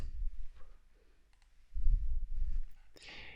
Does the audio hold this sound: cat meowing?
no